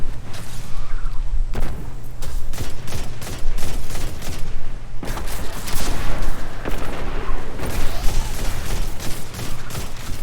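Grenade launcher fire and explosions in the video game Destiny, during a Grandmaster Nightfall mission. Repeated loud bursts and booms come in dense volleys over a constant low rumble.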